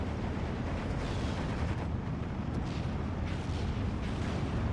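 Artillery fire in the strategy game Steel Division 2 forms a dense, steady low rumble of overlapping distant blasts, with no talking.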